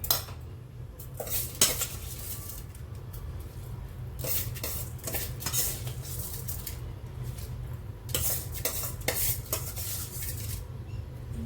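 Washed rice grains clatter into a metal pot, followed by repeated scraping and clinking of a spoon stirring against the pot, with a low steady hum underneath.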